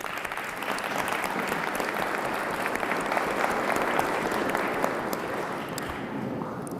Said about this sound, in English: maybe we could give them a round of applause